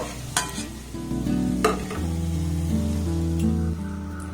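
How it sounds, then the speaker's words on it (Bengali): Mango and semolina pieces deep frying in hot oil, a steady bubbling sizzle with a few sharp clinks of a utensil against the pan, heard close and alone without talk. "আর একইভাবে সবগুলোকে আমি ভেজে নেব"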